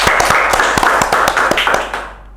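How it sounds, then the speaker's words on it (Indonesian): Applause from a live audience welcoming a guest to an Indonesian talk show, a dense patter of many hands clapping close and loud for about two seconds, then thinning and fading out at the end. "Tepuk tangan untuk Mr."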